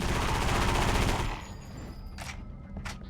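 Rapid gunfire in the Area 51 video game, a dense burst of automatic shots that cuts off after about a second, followed by quieter game ambience with a few faint sharp sounds.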